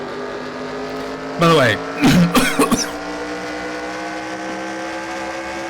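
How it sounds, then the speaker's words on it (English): The stock engine of a race car in a racing video game hums as a steady tonal drone throughout, overlaid by a short burst of nearby coughing and a few spoken words. "that is the stock engine sound that came from the game"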